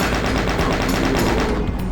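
A chaingunner enemy in Doom II opening fire, a loud, rapid stream of evenly spaced gunshots forming a continuous burst that lasts the whole moment.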